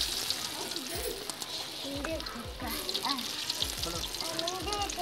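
Pieces of naan sizzle and crackle in hot ghee, a steady frying hiss with bubbling pops and occasional stirring clinks throughout, close and continuous.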